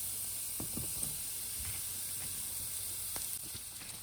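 Mushrooms sizzle in a pan with ginger and sesame oil, a soft, steady frying hiss with a few faint clicks of stirring and no voices.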